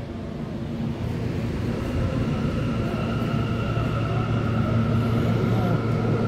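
An M subway train on 8th Avenue in New York rumbles steadily with a low continuous roar and faint tonal whine, heard close and unbroken.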